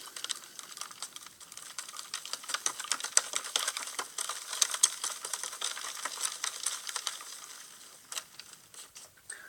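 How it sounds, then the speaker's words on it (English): Spoon stirring a potion mixture containing cinnamon, a continuous light scraping and tapping in a steady rhythm, close but faint, with no talking. "We're going to stir this up really good."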